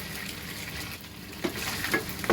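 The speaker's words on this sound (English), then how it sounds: "So I'm just going to go ahead and add the onions." Onions frying in sausage fat in a pan, a steady close sizzle with a few soft stirring clicks and scrapes toward the end.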